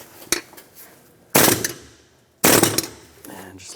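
A 36mm fan clutch tool loosens the radiator fan on a 1999-2006 Chevrolet Silverado 1500 pickup, with a light metallic tap followed by two loud, close, rattling bursts about a second apart.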